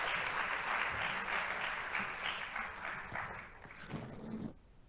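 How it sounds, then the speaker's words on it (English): An audience applauds a panel at an arts forum hosted by the Tampa mayor, steady mid-distance clapping that fills the room, then thins out and stops near the end. "Let's have a round of applause for that panel."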